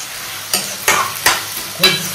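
An onion and tomato gravy frying and bubbling in a pan, a constant hiss punctuated by four evenly spaced bursts of louder sizzling as it is stirred.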